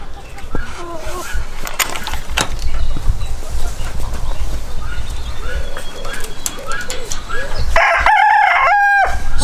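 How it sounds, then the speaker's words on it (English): A breeding flock of three roosters and six hens clucks and murmurs throughout, then a rooster crows loudly and close near the end. "Yeah, three roosters and six hens."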